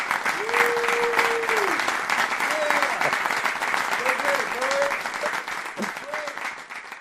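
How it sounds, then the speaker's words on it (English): Audience applause for Dow Davis at the close of a talk show, a steady broad wash of clapping held for about seven seconds, with a few tonal whoops or voice-like slides rising over it. "Give Dow Davis a round of applause"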